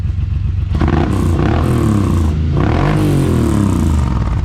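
A Suzuki M109 motorcycle fitted with an aftermarket exhaust revs hard close by, its deep rumbling engine swelling through a couple of throttle blips over a steady loud idle.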